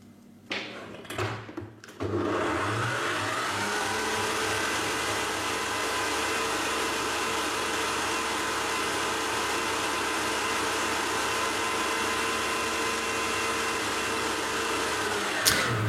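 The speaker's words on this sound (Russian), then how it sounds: "останавливаем миксер 1 раз, соскребаем все в центр и продолжаем взбивать еще минутки 2" An electric mixer whips kefir cake cream, starting with a few knocks and clatters before settling into a loud, steady whirring drone that runs without a break.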